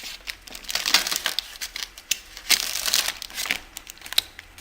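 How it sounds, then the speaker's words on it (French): Packaging of a FlySky FS-i6 remote control being opened: close, continuous crinkling and crumpling of plastic and paper with sharp tearing rustles, no talking. "Donc sans plus tarder, commençons par ouvrir le produit."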